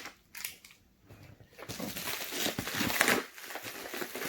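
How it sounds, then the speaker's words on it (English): A box cutter slices open a cardboard video game mystery box, producing scratchy, crinkling rasps that start after a quiet moment and continue steadily, close and fairly loud. "So we'll get our trusty box cutter here."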